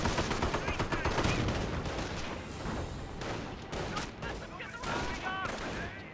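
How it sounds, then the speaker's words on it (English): A Greyhound armored car fires during a Company of Heroes 2 battle, with rapid bursts of gunfire and dull booms crowding a busy battlefield mix while voices are heard underneath. "Greyhound firing away"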